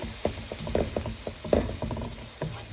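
Chicken and shrimp stir-fry with ginger and soy sauce in a pan, a steady close sizzle broken by repeated clattering stirs and scrapes of a utensil, with no talk.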